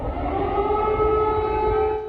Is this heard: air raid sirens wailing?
yes